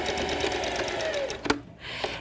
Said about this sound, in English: You'll just stitch forward, reverse, and then continue stitching forward.